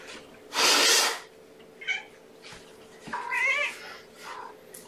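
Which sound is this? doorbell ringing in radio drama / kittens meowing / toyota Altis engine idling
kittens meowing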